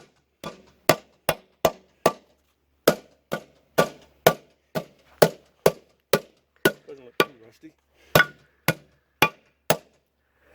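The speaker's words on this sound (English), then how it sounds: "hammer on this ring a little bit to break any rust free" Steady, sharp hammer blows ringing on a steel wheel split ring of a 1952 military truck to break rust free, about two per second, close up, with a brief spoken remark between strikes.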